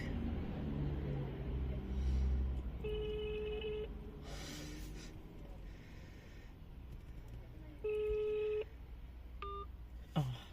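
An outgoing phone call goes unanswered, with two electronic ringback tones sounding several seconds apart over quiet room noise and a faint voice.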